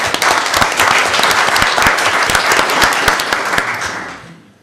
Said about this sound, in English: So how about a round of applause for her birthday?